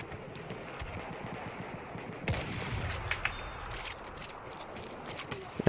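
Battlefield 1 first-person shooter gunfire: scattered sharp shots and bursts at moderate distance over a continuous battlefield din, with a louder crack near the end.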